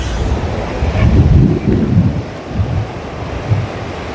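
Waves wash and surge around someone wading through shallow water, rising and falling in loud swells while wind buffets the microphone.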